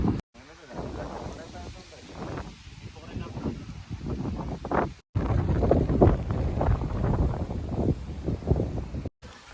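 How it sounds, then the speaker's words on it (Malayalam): Strong mountain gusts buffet the microphone with low rumbling roars while people talk over the wind outdoors on Agasthyarkoodam peak. "നല്ല കാറ്റുണ്ട് ഇവിടെ നല്ല കാറ്റുണ്ട്"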